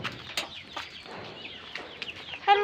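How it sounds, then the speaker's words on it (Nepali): Backyard chickens cluck and chatter faintly in short scattered calls on an early morning, ending with a louder, sharper burst of clucking close by, with no voices. "हाम्रो यहाँ कुखुराहरू के गर्दैछ?"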